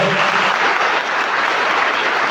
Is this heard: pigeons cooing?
no